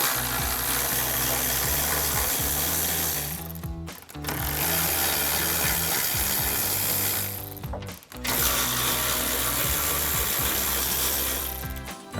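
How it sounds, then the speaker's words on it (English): A power tool with a 13mm swivel socket whines and rattles continuously, removing bolts from a 2007-2018 Silverado 1500 during a bull bar and skid plate install. The tool runs in three long bursts of about four seconds each, with brief pauses between them. "now I'm going to grab a 13mm swivel socket to remove these 4 bolts"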